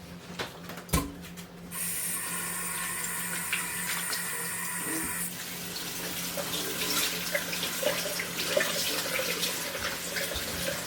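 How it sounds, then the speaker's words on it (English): Running tap water rinses a home-cured, salted pork belly with peppercorns. After a brief clatter the water starts and flows steadily, with a brighter stream at first and then a fuller splashing wash that continues to the end. "We'll rinse it off and soak it."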